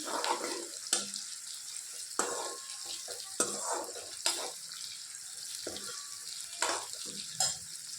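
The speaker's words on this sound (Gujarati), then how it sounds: "સિંગદાણા, લીલા મરચાં અને લીમડો બરાબર સાતળી દેવાના." Peanuts, green chillies and curry leaves sauté in a pan, giving a soft, quiet sizzle broken by repeated sharp spoon scrapes and stirring clatter.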